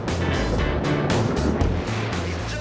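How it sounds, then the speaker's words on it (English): P1 SuperStock racing powerboats, identical 21- and 27-foot boats of 150 and 300 horsepower, roaring across open sea off Britain's southwest coast, a loud continuous engine drone with wind and spray throughout. "the 12 identical powerboats measuring 21 and 27 feet respectively entertained motorsport fans along one of Britain's most spectacular coastlines"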